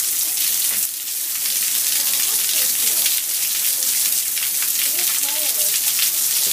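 Heavy rain pours down in a dense, steady hiss of drops striking surfaces, loud and unbroken throughout, with faint voices speaking underneath.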